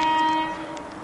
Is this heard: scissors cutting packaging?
no